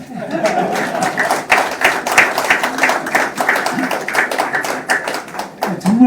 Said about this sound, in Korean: 의사 선생님 빼고 나머지 다 박수 한번